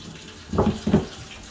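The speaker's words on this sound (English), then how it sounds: "Put some water in." Two short splashes of water poured into a cooking pot holding half a pork head with salt and onions, close and fairly loud over a quiet room.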